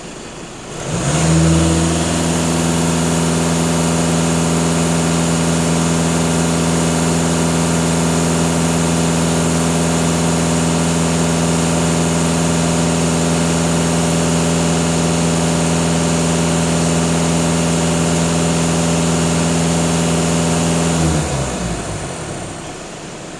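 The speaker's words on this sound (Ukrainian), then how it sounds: "Даю газ в пол." A 2.0 TDI diesel in a VW Passat B8 held at full throttle, a loud, steady high-revving drone that rises quickly, holds for about twenty seconds, then drops away as the throttle is released.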